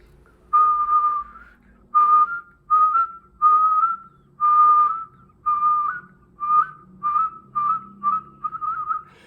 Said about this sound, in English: while you're whistling out, you pull your cheek